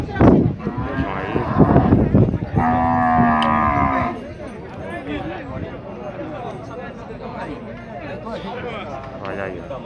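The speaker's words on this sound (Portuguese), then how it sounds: "as vacas de Zé Belo" Cattle at a livestock fair in Tabira, Pernambuco: a loud, close moo opens, a long drawn bellow follows, and a crowd chatters and murmurs throughout.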